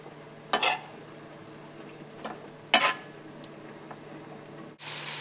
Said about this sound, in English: I've got my butter and my strawberries simmering in here